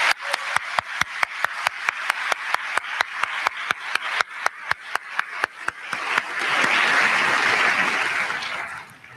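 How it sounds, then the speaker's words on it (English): A convocation audience applauds, starting with steady, separate claps in a regular rhythm that swell into a dense, loud wash of clapping toward the end. "give them a round of applause to thank them for their work"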